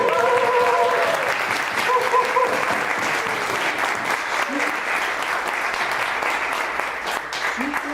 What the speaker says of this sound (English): big round of applause for Lauren White, everybody